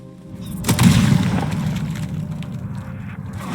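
Gunfire in Red Dead Redemption 2: a sharp, loud shot near the start followed by booming, rumbling reverberation that slowly fades, with no talk.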